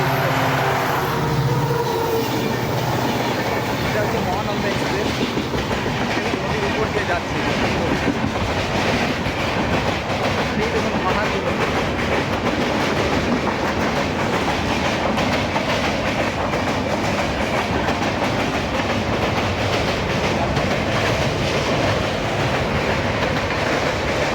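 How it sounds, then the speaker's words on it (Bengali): A train runs past close by near the Mal river, its wagons clattering rhythmically over the rail joints in a continuous loud rumble that holds steady from start to finish. "ওই দেখুন ট্রেন আসছে"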